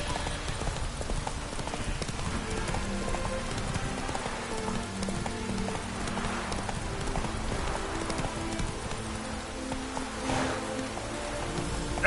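Hooves of Roach, Geralt's horse in The Witcher 3, clip-clop steadily at close range across twelve seconds of steady gameplay ambience, with a faint rain-like hiss and an occasional snort.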